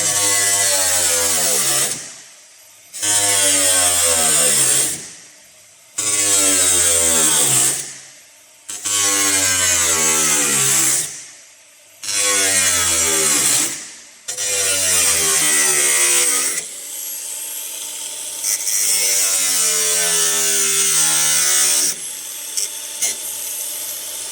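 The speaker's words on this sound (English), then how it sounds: "I gotta admit, the grinder's the best way to go." An angle grinder cuts a window opening in a van's metal body: six loud, close, screeching cutting bursts of about two seconds each, separated by brief pauses, then a longer, steadier, quieter grind.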